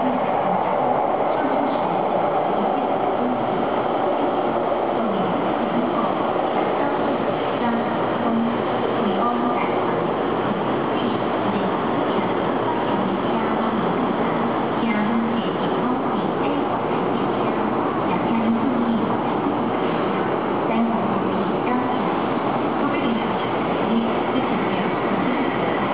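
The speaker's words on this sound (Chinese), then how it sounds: "开往台北的476次北上列车已经到站" A high-speed train pulls into a Taiwan High Speed Rail station platform on a northbound service to Taipei, giving a loud, steady rumble and rolling wheel noise throughout with a public-address announcement in Mandarin heard under it.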